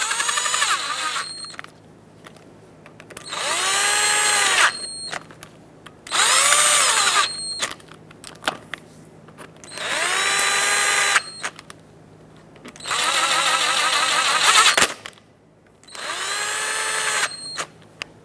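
A power tool whirs in six separate bursts, each a couple of seconds long with a rising and falling whine, snugging the bolts of a front brake dust shield on a 2000-2005 Ford Excursion, close and loud with quiet gaps between.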